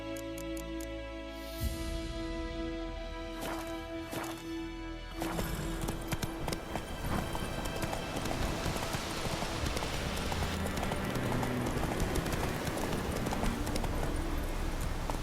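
The horse Roach galloping in The Witcher 3, rapid, steady hoofbeats that grow denser and louder partway through, running alone over continuous background sound.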